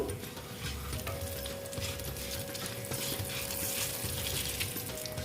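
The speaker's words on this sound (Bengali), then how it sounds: "একটা শুকনো লঙ্কা দিয়ে দিলাম তেজপাতা দিয়ে দিলাম আর গোটা জিরে দিয়ে দিলাম এটাই হবে ফোড়ন" Dry red chili, bay leaf and whole cumin crackle and sizzle in hot oil for a tempering, a close, busy spattering with sharp ticking pops over a steady hiss and no speech.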